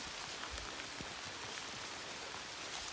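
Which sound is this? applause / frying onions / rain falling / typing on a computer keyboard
rain falling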